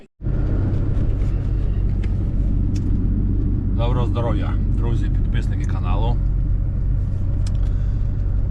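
Manitou MT 932 Turbo telehandler engine idling in winter after a generator repair, a steady low rumble throughout, with someone talking over it at length.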